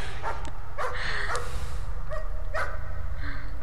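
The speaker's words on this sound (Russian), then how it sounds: "Я слышу такую собачку" Dog barks repeatedly in the horror video game Layers of Fear, loud and close, with irregular yips and whimpering between the barks and no talk over them.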